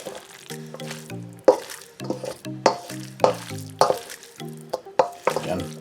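Jamaican chicken salad is mixed in a bowl with repeated wet, squelching strokes, each pass a short squeaky burst in a brisk, uneven rhythm, close and fairly loud.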